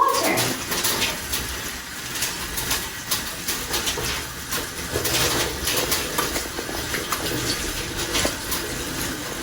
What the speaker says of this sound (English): rinse your hands well under clean running water